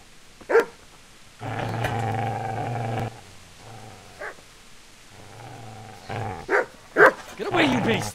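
A dog in the video game Kingdom Come: Deliverance growls in long sustained bursts and barks sharply, with a voice shouting between and over the growls.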